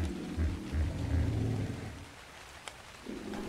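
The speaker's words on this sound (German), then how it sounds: "Es regnet." Rain falls steadily in the video game ARK: Survival Evolved as a soft, continuous hiss with low rumbles underneath, quiet and with no talking.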